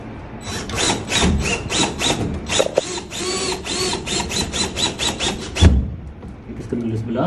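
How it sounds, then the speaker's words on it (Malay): Screwdriver driving screws into the casing of a T8 LED linear pendant lamp, a rapid rhythmic whirring ratchet in repeated bursts, close and fairly loud. "Kita skru dulu sebelah."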